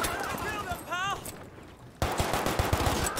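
Pistol gunfire in the video game Battlefield V, a quick run of sharp shots in the second half, preceded by louder battle noise and a voice speaking.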